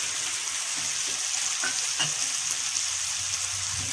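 Masala frying in a pan for pumpkin curry, a continuous close hiss of oil with faint stirring taps scattered through, steady throughout.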